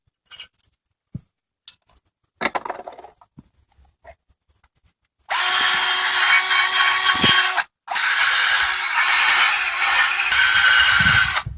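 A power tool wire brush scrubs a brake caliper bracket on a Lexus ES300 during a brake service. A few light handling clicks come first, then two long, loud, steady grinding bursts with a brief pause between them.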